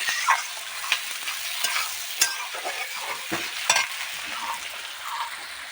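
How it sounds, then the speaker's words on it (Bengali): Onions stirred and fried in a pan for a thin mutton curry, a steady close sizzle broken by repeated scraping spatula strokes, with no voices. "এবার একটু ভালো করে নেড়ে চেড়ে একটু লাল লাল করে নেব"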